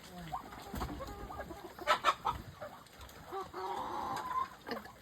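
Hens clucking in short bursts, fairly close, with a few louder squawks midway and some quiet talking mixed in.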